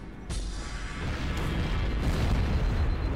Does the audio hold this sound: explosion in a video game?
yes